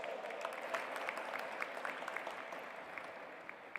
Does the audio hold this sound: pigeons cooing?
no